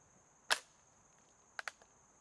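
An antique Model 1816 flintlock musket fires with one sharp crack and a short decay, followed by a few faint, quick clicks, heard at a distance over a quiet background with a steady high tone.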